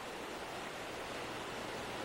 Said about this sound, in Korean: 인간의 발길이 전혀 닿지 않는 동굴에서 쏟아져 내리는 폭포.